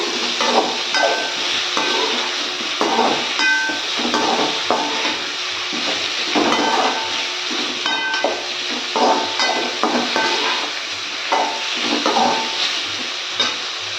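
Bitter gourd and onion sauté in oil for tamarind curry, a continuous close sizzle punctuated by repeated rhythmic scrapes and metallic clinks of stirring in the pan.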